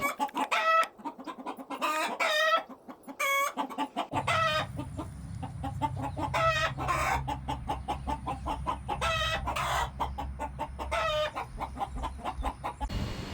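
Several chickens cluck and squawk repeatedly in a busy, close chorus, with a steady low mechanical hum underneath from partway through.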